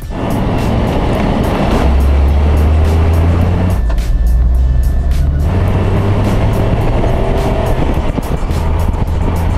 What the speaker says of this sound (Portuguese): Esse ronronar dos 3 cilindros é muito legal.